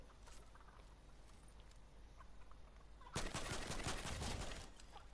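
Faint clucking chickens in Fortnite, then a loud, rapid burst of gunfire shooting them that continues to the end.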